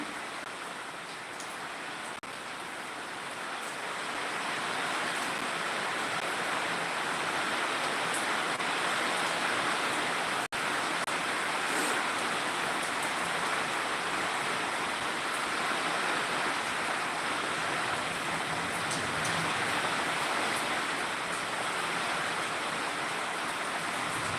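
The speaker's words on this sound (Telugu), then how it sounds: "వర్షం అయితే ఒక మాదిరిలాగా ఉంటే ఒక లిమిటెడ్లో అయితే స్లోగా వస్తూనే ఉందండి" Steady medium rain falls continuously in Anantapur district at night, a dense, even hiss of drops without pauses or surges, moderately loud and unbroken by voices.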